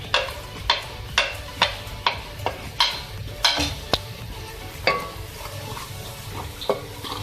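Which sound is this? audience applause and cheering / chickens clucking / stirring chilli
stirring chilli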